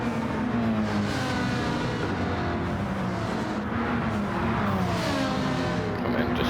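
An Audi race car pulling away from the start line, a close, steady engine drone with rising and shifting tones as it accelerates, continuous and fairly loud for several seconds.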